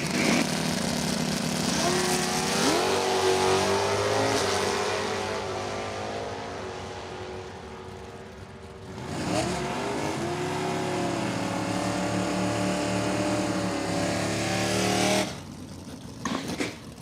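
Drag cars launching at a dragway during class racer nationals, among them a 427 Camaro in AA Automatic, two loud engine runs with rising revs and gear changes, roaring up close then fading, separated by a brief lull.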